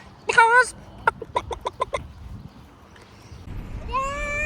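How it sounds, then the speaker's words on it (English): Wild chickens cluck in short, rapid bursts with a couple of longer calls, fairly close, over a quiet outdoor background near a Majorca hotel. "outside the hotel there was a lot of wild chickens running around"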